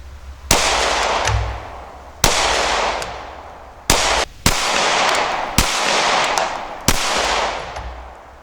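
Slow, deliberate gunshots from FMJ ammunition, six sharp loud reports spaced one to two seconds apart, each with a long ringing decay outdoors and no talking.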